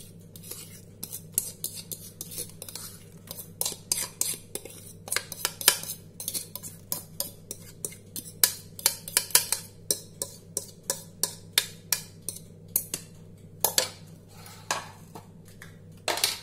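Mashed banana being beaten into a wheat banana cake batter in a bowl, with a steady series of sharp utensil clinks against the bowl over a low background hum.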